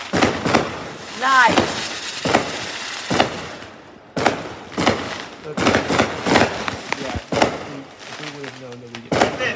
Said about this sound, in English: Oh, the circle one. The circle fireworks.